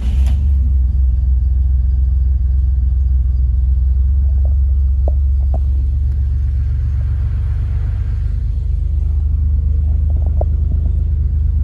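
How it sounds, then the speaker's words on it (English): 1962 Chevrolet Corvair convertible's air-cooled rear engine settling into a steady, loud low idle, a constant deep rumble with a few faint clicks and no speech. "I'll start it up here for you and then we'll go for a quick ride"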